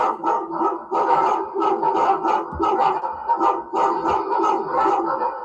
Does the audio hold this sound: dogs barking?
yes